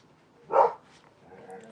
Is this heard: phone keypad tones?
no